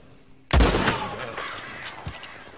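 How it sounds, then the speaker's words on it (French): A single loud gunshot rings out while hunting an animal in Red Dead Redemption 2. It is a sharp, close crack followed by a long reverberant tail. "on va lui placer une balle en pleine tronche"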